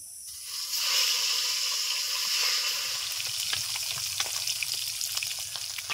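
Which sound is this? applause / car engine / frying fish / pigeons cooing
frying fish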